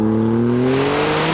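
A Maserati MCPura in Corsa mode accelerates hard, its engine loud and close with a strained, rising howl that climbs steadily in pitch over a second or so.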